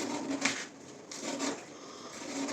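An Elmax steel knife with a very fine, thin edge slices through rope, giving soft, continuous rasping and fibrous scraping with a couple of gentle swells, quiet and close, with no talking.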